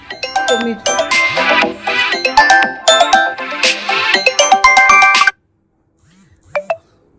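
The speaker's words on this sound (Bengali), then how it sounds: "একটা ফোন এসেছিল বন্ধুরা, সরি, কেটে দিলাম" A loud electronic phone ringtone plays a bright melodic pattern for about five seconds, stops abruptly, then two faint tones follow.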